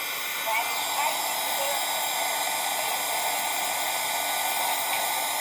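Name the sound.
hair dryer drying wet paint on wooden Easter shapes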